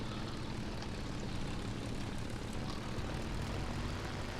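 Steady engine drone from a Spitfire VB with an inline aircraft engine in War Thunder, a continuous loud propeller roar holding even throughout with low rumbling undertones.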